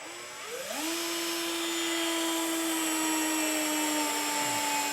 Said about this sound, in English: at this point I have a right angle drill here